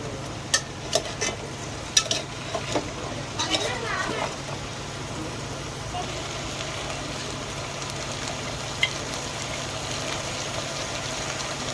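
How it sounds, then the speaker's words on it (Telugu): Drumstick, okra, eggplant and carrot frying in a pan for sambar, a steady low sizzle with a few clanks of stirring near the start, under a voice talking. "వీటన్నింటిని ఒక 5 నిమిషాల పాటు బాగా ఫ్రై చేసుకోవాలి."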